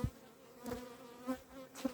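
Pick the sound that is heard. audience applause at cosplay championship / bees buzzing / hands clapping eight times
bees buzzing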